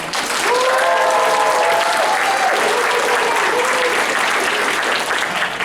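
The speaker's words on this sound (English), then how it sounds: "give a big round of applause to Kaiji Tang" An anime convention crowd at Kawacon 2025 applauds voice actor Kaiji Tang with loud, sustained clapping, while a voice talks over the applause.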